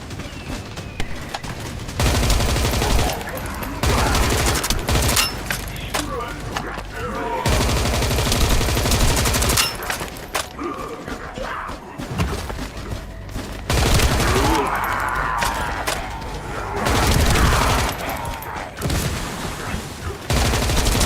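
Heavy gunfire from the shooter game The First Descendant rattles in dense, loud bursts through most of the stretch, with brief lulls between volleys and a voice talking over the shooting.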